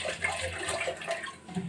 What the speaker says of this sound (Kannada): ಅದೇ ಮಿಕ್ಸಿ ಜಾರಿಗೆ ಸ್ವಲ್ಪ ನೀರು ಹಾಕ್ಬಿಟ್ಟು